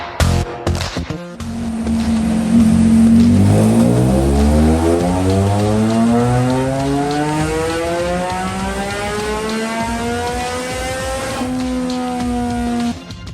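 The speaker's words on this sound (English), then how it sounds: "I'll get it on the dyno and do some base runs to check and see what we need to change to get the bike running better" A motorbike on a dyno during base runs for Woolich Racing mapping revs in one long, loud pull. The engine tone climbs steadily for about ten seconds, holds briefly, then cuts off abruptly.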